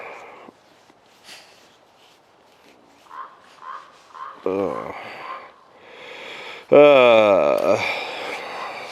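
A crow caws at a winter camp in the morning, giving a few faint short calls and then loud, harsh, close caws near the end.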